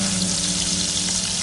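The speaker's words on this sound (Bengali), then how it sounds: "এবার ওই তেলের মধ্যে আলুগুলো দিয়ে দিলাম। আর এবার আলুগুলোকে ভেজে নেব।" Potatoes frying in hot oil in a pan, a dense, even sizzle that holds steady and close for the whole short stretch.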